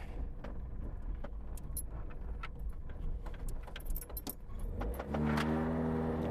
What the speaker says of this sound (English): Sounds like a little four-cylinder to me.